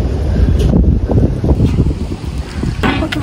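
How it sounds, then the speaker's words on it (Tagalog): Strong wind gusts buffet the microphone at a port in Japan, a loud, continuous roar with rumbling bursts that rise and fall throughout. "Napakahangin mga kigwahers."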